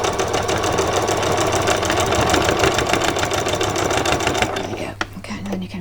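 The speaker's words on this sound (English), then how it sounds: "do a back stitch right back up to where your seam is" A sewing machine runs a fast, steady back stitch up a dress seam, its rapid needle chatter continuing for about four and a half seconds before stopping with a soft clunk.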